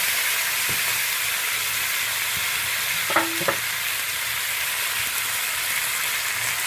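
A fish and spice mixture is poured into very hot oil in a wok, giving a strong, continuous hiss of frying with a couple of brief clinks near the middle and no talking.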